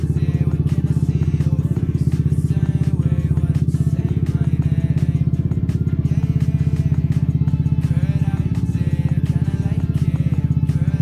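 A Honda Beat FI scooter fitted with a spinner fan cover idles close by, a steady, loud, fast-pulsing engine putter with faint mechanical clatter that holds even throughout.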